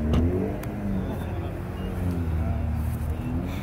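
Engine of a Ferrari at a Cars and Coffee show at MacGregor Village in Cary, running steadily with a low, rumbling idle and a throaty rev swell near the start, close by and continuous with outdoor crowd noise behind.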